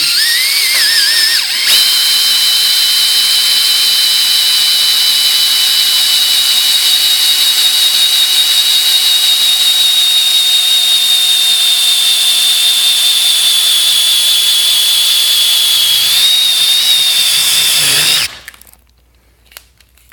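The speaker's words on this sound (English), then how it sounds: "which means there is some bite from the hole saw onto the plastic handle" A power drill fitted with a hole saw cuts through a plastic handle during a Corvette C5 tweeter relocation, giving a steady high whine for about eighteen seconds before it abruptly stops.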